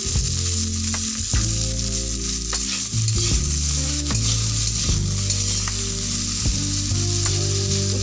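Bitter gourd slices with a pinch of salt frying in a pan, a loud steady sizzle throughout with repeated scraping stirs and clicks of a spatula against the pan, close and continuous.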